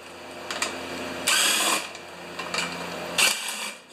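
A power tool taking the covers off a Craftsman 800/24 snowblower, heard as short bursts of a whirring driver, close by, with brief pauses and clicks between spins.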